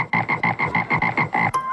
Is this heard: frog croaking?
yes